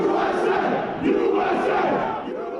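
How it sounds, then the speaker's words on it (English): A large crowd shouts and roars while storming the US Capitol, a dense, continuous wall of yelling voices with surges and swells, loud and close throughout. "the crowd became intent on storming the building"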